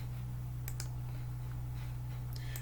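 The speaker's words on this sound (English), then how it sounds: "When I double click on this formula" Computer mouse double-clicked on a formula in a spreadsheet: two pairs of quick, faint clicks, one pair near the start and another near the end, over a steady electrical hum.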